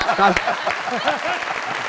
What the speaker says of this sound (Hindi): अच्छा एक दो तालियां